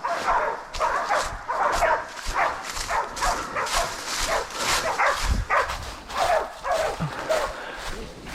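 Hunting dogs bark and yip repeatedly in quick bursts during a pig hunt in Cooktown, close and loud, with whimpers between barks.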